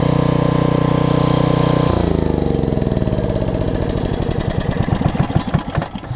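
A generator engine runs during a snowy multi-day power outage. Its loud, close, even drone drops in pitch after about two seconds and breaks into slower, uneven thumping pulses.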